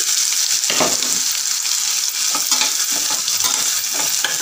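Chana dal fries in a pan with a loud, constant hissing sizzle up close, broken by the scraping of a spatula stirring through the lentils.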